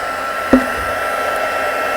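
An embossing heat tool runs on a high setting, heating embossing powder on vellum with a steady, loud blowing whoosh throughout and a single brief knock near the start.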